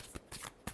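Tarot cards being shuffled in three quick, crisp riffling bursts, close and fairly quiet, with no voice.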